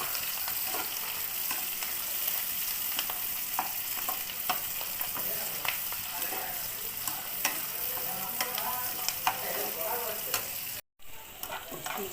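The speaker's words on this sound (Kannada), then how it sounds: "ಕ್ಯಾಪ್ಸಿಕಮ್ ಹಾಕಿ ಫ್ರೈ ಮಾಡಬೇಕು" Capsicum and onions fry for chilli chicken, a loud continuous sizzle with frequent stirring scrapes throughout, cutting out briefly near the end.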